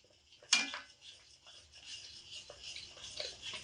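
Semolina dough for palm-fruit jalebi is stirred in a pan, opening with a sharp utensil clink against the metal, then soft, uneven scraping and rubbing strokes up close, with no voices.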